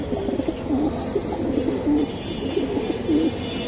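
A Bezi breed pigeon coos in low repeated rolling calls, close by, against a faint background murmur of other birds.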